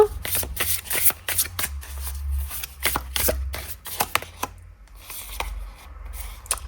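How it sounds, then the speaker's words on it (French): Tarot cards shuffled and set down by hand, giving a run of close, crisp riffling and slapping bursts at an irregular rhythm, with faint speech in places. "Allez, on va mettre une deuxième carte."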